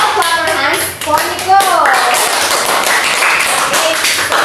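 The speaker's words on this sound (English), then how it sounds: "Let's all clap our hands for" A classroom of children clapping their hands together during a science lesson, sharp rhythmic claps under a voice and a teacher talking.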